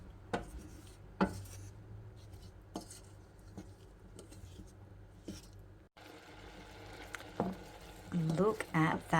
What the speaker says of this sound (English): I'm just going to mix this until the sugar dissolves and the rhubarb